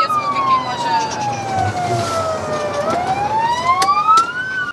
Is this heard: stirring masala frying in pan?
no